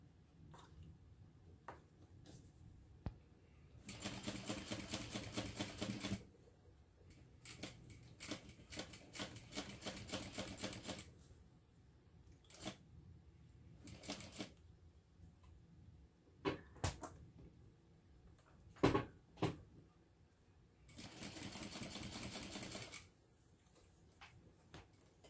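A sewing machine stitches a bag's lining panels in several bursts of rapid mechanical clatter, separated by quieter pauses with small clicks and handling sounds.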